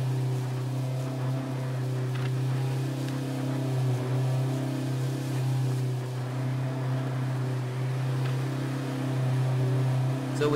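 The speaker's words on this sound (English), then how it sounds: "they've totally revamped all of the car sounds" A car engine in the game H1Z1 drones steadily and continuously, with a strong low hum and faint rises in pitch, close and alone with no talk.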